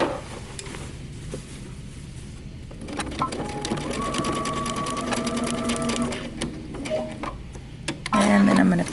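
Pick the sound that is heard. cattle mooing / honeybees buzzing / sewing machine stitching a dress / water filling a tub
sewing machine stitching a dress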